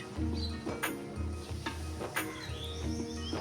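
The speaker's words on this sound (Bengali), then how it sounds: "নেড়ে চেড়ে দিচ্ছি" Chicken with onion and turmeric is stirred in a pan, giving repeated spoon scrapes and knocks over a low sizzle, with faint bird chirps in the background.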